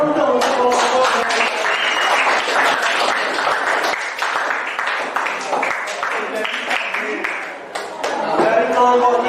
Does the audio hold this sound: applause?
yes